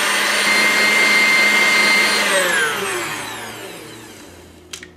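An electric mixer whisking egg whites whirs loudly and steadily, then spins down, its pitch falling as it slows and stops, with a brief clatter at the end.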